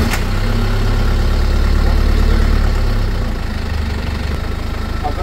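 A Land Rover Perentie 4x4 engine idles steadily and loudly throughout, with a deep rumble that drops slightly partway through, and no talking.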